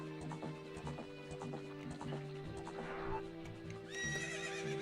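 Horse hooves clip-clop at a steady gallop in Zelda: Ocarina of Time on Nintendo 64, with a bright whinny near the end over game music.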